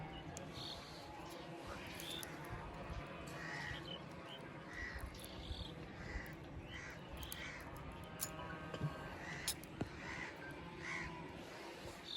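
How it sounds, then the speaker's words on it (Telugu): Crows caw repeatedly at a distance, faint calls scattered across a quiet outdoor campsite background. "పక్షులు అవన్నీ ఉన్నాయి"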